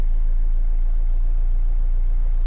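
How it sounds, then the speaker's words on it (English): A Mazda2 engine running on hydrogen at low concentration, idling with a steady, smooth low rumble close by, alone without voices. "the engine sounds quite nice at low concentration"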